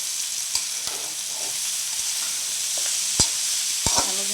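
Bitter gourd and potato pieces frying in oil in a pan, a steady bright hiss and sizzle with a few soft clicks and scrapes as a spoon stirs them, close and without any talk.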